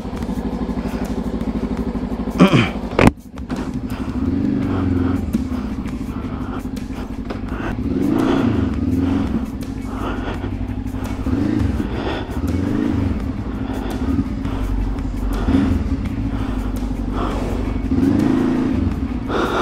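Voge 525ACX motorcycle rolling through city traffic, its engine humming steadily with gentle rises in revs, along with a brief clatter near the start.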